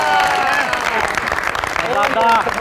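Studio audience applause on a Pakistani comedy talk show, a dense continuous wash of clapping and crowd noise filling the whole moment, with a host's voice carrying over it.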